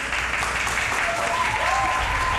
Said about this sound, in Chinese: 掌声鼓励，谢谢